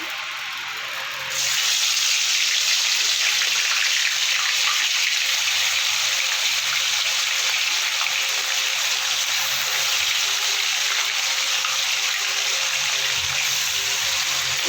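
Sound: fish frying in hot oil

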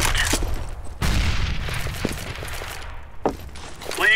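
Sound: grenade explosion in Counter-Strike: Global Offensive video game

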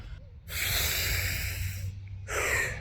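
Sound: deep calming breaths

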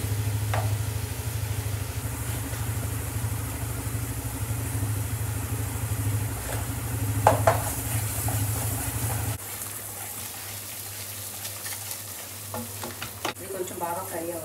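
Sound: frying paneer butter masala in a pan

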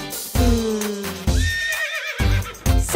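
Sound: horse neighing

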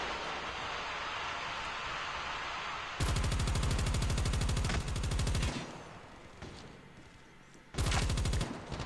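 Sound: gunfire from video game Call of Duty Mobile

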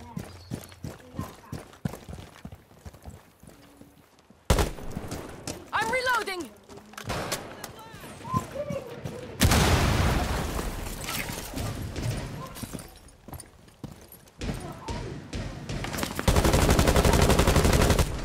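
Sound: gunfire shooting through a wall in Rainbow Six Siege video game

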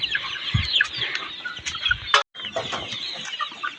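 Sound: chickens clucking while being given water on a farm

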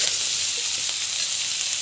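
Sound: sautéing onions with asafoetida and rock salt in a pan

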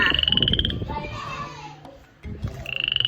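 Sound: frogs croaking (golden-coloured foreign frog)

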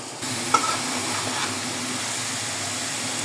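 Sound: vegetables and potatoes being stirred and fried in a pan

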